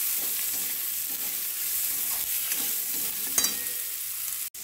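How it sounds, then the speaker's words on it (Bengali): Chopped onions frying in hot oil while shrimp cook in a pan, a steady close sizzle running throughout with stirring scrapes and a sharp clatter near the end. "দেখুন পেঁয়াজ কুচোটা আমি দিয়ে দিলাম, দিয়ে আমি ভালো করে একটু"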